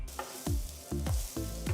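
Masala powders for pav bhaji sautéing in a pan: a steady sizzle broken by regular, close scraping strokes of a spatula, about one every half second, with no voices.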